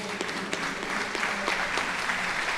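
A crowd at a Kentucky Bourbon Hall of Fame induction ceremony applauds in a standing ovation for Kentucky Governor Andy Beshear, dense sustained clapping filling the room at a steady, loud level.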